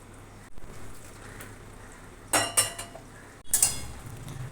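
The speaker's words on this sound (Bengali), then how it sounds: "এবার এতে আমি মাছগুলো দিয়ে দেব।" Singi fish go into a cooking pot of curry with arum root, potato and eggplant: a few quiet clinks and clattering bursts of utensil against pot over a low background, with no talk.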